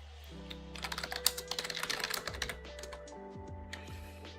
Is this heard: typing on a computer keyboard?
yes